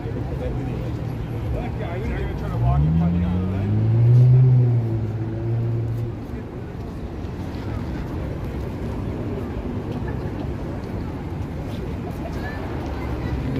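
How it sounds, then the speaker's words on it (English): Heavy road traffic on Bremner Boulevard in downtown Toronto, a steady low rumble of engines with one vehicle swelling louder as it passes in the first seconds, then a continuous far-off drone. "there's a ton of traffic on the rest of Bremner Boulevard"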